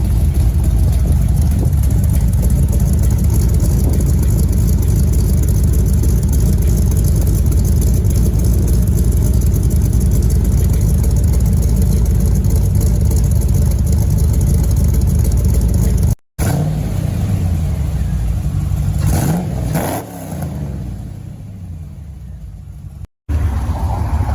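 A 1988 Corvette engine with newly welded-on MagnaFlow mufflers runs close and loud, a deep steady exhaust drone that cuts out briefly, then returns with revving and shifting tone.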